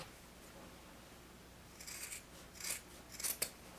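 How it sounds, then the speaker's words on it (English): Scissors snip through the knit top of a sock in a few short, crisp cuts, close and quiet against a faint background. "So I'm going to cut this."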